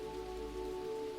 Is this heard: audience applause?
no